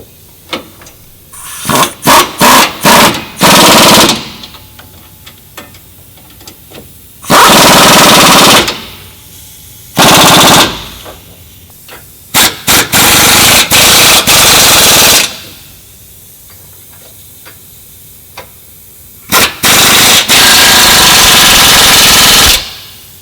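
Power tool rattling hardware tight on a new track bar relocation bracket during a 2017-2019 Ford F250 Super Duty leveling kit install, in several loud, sustained bursts separated by short staccato pulses and quieter shop pauses.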